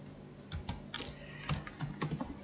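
Fingers type on a computer keyboard nearby, an uneven run of soft, quick key clicks and taps over a quiet background, with no talk.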